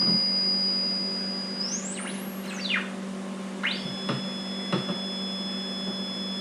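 A homemade NyquistNightmare rev 1.0 synth module running with no input: steady electrical hum under a high whine that sweeps upward, then scattered descending chirps and zaps, moderately loud and close, with no talk.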